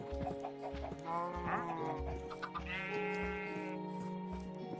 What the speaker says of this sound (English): We've got sheep now.